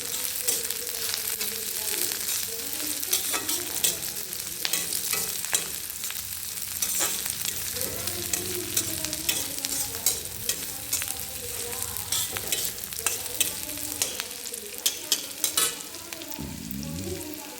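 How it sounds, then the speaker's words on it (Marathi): Onion frying in a pan for dal khichdi, a dense crackling sizzle with scraping stirs throughout, close and steady, no voices. "आता कांदा चांगला भाजला आहे"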